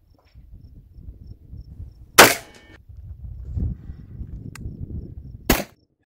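Rifle shots testing 62-grain Lehigh Controlled Chaos bullets through a soft barrier, two loud sharp cracks a few seconds apart over low outdoor background noise, near and dry.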